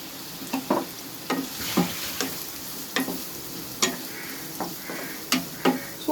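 Onions and curry leaves sauté in hot oil for a prawn roast, a soft continuous sizzle broken by repeated sharp scrapes and taps of a stirring spoon against the pan, close and without talk.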